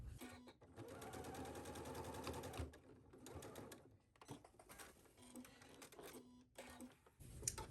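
A sewing machine stitches the facing of a wrap skirt in close, rapid mechanical bursts, running fast for a couple of seconds, then pausing and restarting in shorter runs.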